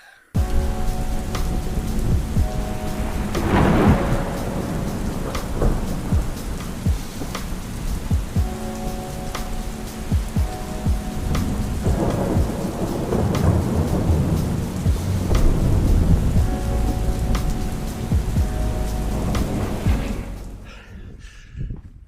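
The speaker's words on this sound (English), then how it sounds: "we endured rain, thunder, lightning" A thunderstorm at a tent campsite in Wyoming's Bighorn Mountains: steady heavy rain hisses without pause while several deep rolls of thunder rumble and swell, some close and loud, others more distant, before the sound cuts off at the end.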